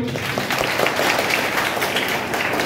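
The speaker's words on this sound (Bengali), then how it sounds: "অমিত স্যারের জন্য একটা হাততালি" An audience applauds a teacher named Amit at a school quiz event: a continuous dense patter of hand claps from a crowd, fairly loud and even throughout.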